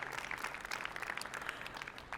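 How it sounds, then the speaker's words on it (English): Audience applause at a generative AI entertainment conference talk at the NAB Show, a steady wash of many hands clapping from a crowd, moderately distant and even throughout. "You can clap because that's awesome."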